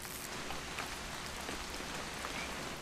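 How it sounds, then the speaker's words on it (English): Steady rain pattering on surfaces in the video game What Remains of Edith Finch, a constant, even wash of droplets with no voices over it. "It's gonna rain the whole weekend, isn't it?"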